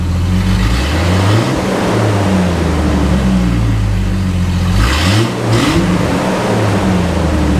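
A Jeep Wrangler TJ runs with its muffler removed. The engine sends out a loud, raw, continuous drone with a brief dip and rev partway through, close by, with no talking.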